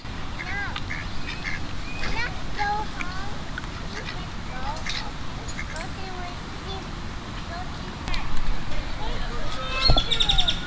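Ducks quack repeatedly over a steady outdoor background in Houston, Texas, with a person speaking now and then.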